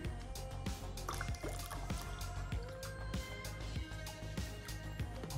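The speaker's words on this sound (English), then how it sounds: "Now I'm going to add cold water to it." Cold water poured into a container gives a steady close liquid trickle with repeated drips and squishy splashes over several seconds.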